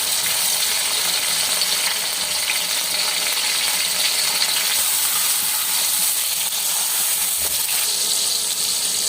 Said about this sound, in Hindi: इसके बाद हम इसमें जो है ना प्याज डाल देंगे और इसके बाद हमने इसमें टमाटर डाल देने